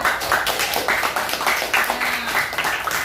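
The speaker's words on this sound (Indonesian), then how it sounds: "tepuk tangan untuk kelompok 2" Students in a classroom clap for a winning group, a moderately loud, somewhat roomy patter of hands in loose rhythm, with faint murmuring underneath.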